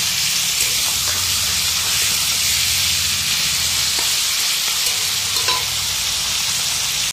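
Meat and onions sizzling and frying in a pan, a loud continuous hiss with occasional stirring scrapes, close up and steady throughout.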